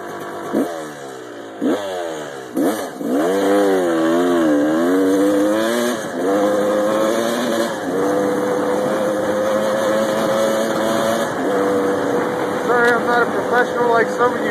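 A Yamaha YZ250 two-stroke dirt bike is ridden around a rural back field, its engine revving up and down in repeated rising whines, close and loud throughout, easing off then climbing again toward the end.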